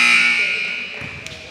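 Loud buzzer sounding at the end of a quarter in a basketball game between the Canes and Florida Lions, a sustained tone that fades over about a second while a commentator talks and crowd noise follows.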